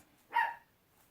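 A single short dog bark, sharp and fairly close, rising out of near silence and fading quickly.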